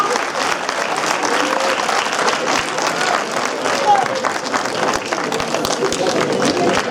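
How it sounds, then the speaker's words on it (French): Sustained applause from a French cinema audience at a preview screening, steady and fairly loud throughout, with a faint murmur of crowd voices underneath. "merci de les applaudir encore une fois"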